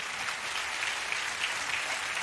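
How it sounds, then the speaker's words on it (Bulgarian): A studio audience applauds a winning team on a Bulgarian television show, a continuous dense wash of clapping at even loudness throughout. "Аплодисменти страхотни!"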